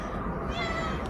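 A pet cat in a garden gives a short meow over a steady, noisy outdoor background, fairly close and not very loud.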